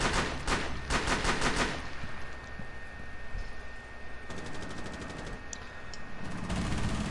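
Rapid bursts of gunfire in a multiplayer shooter game, sharp repeated cracks in clusters at the start and again midway, loud and close with a few faint distant shots between.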